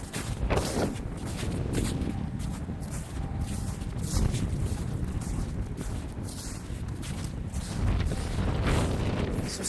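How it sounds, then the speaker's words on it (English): Warm, gusty wind during a Cleveland, Ohio thaw roars and buffets a microphone in low, rumbling surges that rise and fall steadily, with no voices. "Windy, but it's a warm wind."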